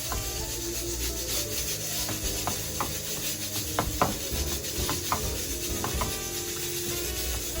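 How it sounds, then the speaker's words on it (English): Stirring a mixture by hand, a steady scraping and rubbing of a utensil against the bowl with periodic sharper knocks, close and continuous with no talk. "Stir it around now"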